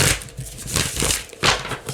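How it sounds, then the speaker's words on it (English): Well-used tarot cards being shuffled by hand, a rapid series of crisp riffling and slapping bursts with uneven rhythm, close and fairly loud, no talking. "These are very well used cards that I have, so they shuffle very nicely."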